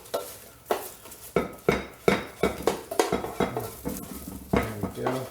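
Air-fried Mediterranean potatoes tipped and scraped into a bowl, a series of sharp clattering knocks and scrapes of metal against dishware, close and fairly loud, in an irregular rhythm with no talking.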